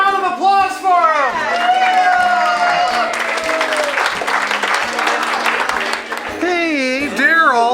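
Crowd applause and cheering blend with excited shouting voices and people talking over the clapping, loud and lively throughout.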